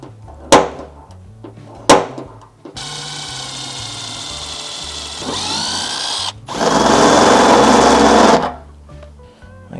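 A power tool whirs in several bursts while bolting a wide-body rear fender onto a 1JZ Supra: two short sharp zips, then a sustained run, a shift in pitch, and a louder final burst, close and loud.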